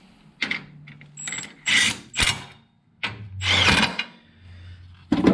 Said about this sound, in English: now we got the shock tower bolted on temporarily